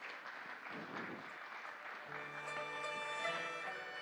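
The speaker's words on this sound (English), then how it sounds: "A round of applause, please." An audience in a hall at an international forum on global faith and culture applauds, the clapping faint and distant, and sustained musical tones join in halfway through.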